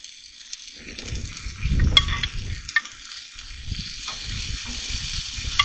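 Sauce hitting meat in a pan at a state park camp cookout for Thai lettuce wraps, giving a soft, crackling sizzle that swells midway with stirring scrapes and clinks, fairly quiet and without talk.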